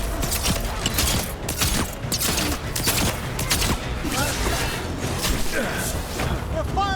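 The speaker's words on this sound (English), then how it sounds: "They're firing at us." Enemy gunfire in Dragon Age: The Veilguard, a dense, continuous barrage of sharp cracks and impacts layered over battle noise, with voices talking through the fighting.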